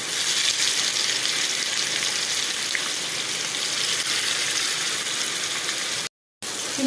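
Small fish dropped into a pan of fish curry, giving a steady, loud frying sizzle that runs on alone before cutting out abruptly near the end.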